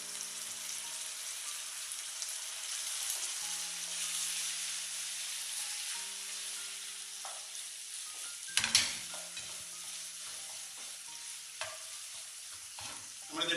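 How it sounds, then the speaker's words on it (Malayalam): Fried chicken pieces for lemon chicken hitting a hot pan, a steady broadband sizzle with intermittent stirring and a sharp clatter of utensils partway through, close and alone without talk. "ഫ്രൈ ചെയ്തിരിക്കുന്ന ചിക്കൻ ഇതിലേക്ക് ചേർക്കുന്നു."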